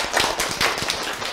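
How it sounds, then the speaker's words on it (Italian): A burst of audience applause at a school show for young students, a short, steady wash of clapping with a few sharper claps standing out, heard alone without talk. "un altro applauso!"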